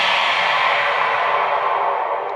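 Worship percussion downlifter effect, a broad washy swoosh with heavy reverb that starts high and sinks lower, sustained at steady loudness for about two seconds with no voices.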